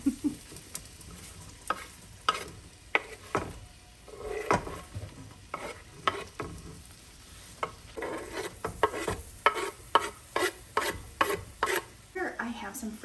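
Butter and onion sizzle softly in a pan while a utensil stirs and scrapes repeatedly, sharp irregular scraping strokes over a low steady fry, close and fairly quiet.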